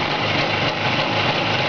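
Tuned engine from a 638 with ground cylinders, new rings, polished covers and electronic ignition, idling with a steady, continuous high buzz close up, alone and without talk.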